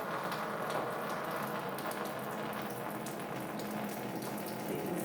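Steady stream of water pours from a spigot into a bucket, a continuous splashing rush that holds level and close throughout, with no voices.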